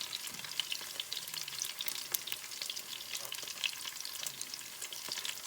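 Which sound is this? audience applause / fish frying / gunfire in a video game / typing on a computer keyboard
fish frying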